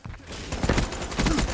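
Rapid automatic fire from the Razorback gun in a video game, a dense close burst of quick repeated shots that starts after a brief quieter moment and continues to the end.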